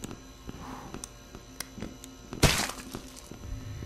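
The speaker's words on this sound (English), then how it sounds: "I blew the candles out on the cake and then it exploded." A cake exploding in a Backrooms video game, one sharp cracking burst midway that stands out from a quiet humming background with scattered small thuds.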